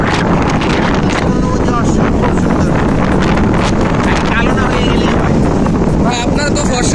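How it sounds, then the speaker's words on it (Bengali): Strong wind gusting across the beach at Cox's Bazar, a steady loud roaring rush that buffets the microphone throughout, with voices talking over it. "প্রচন্ড বাতাস,"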